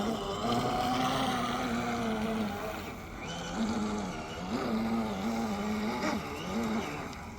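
A Sea Dagger model aircraft running over water, its small engine giving a loud, buzzing drone whose pitch rises and falls several times as it passes.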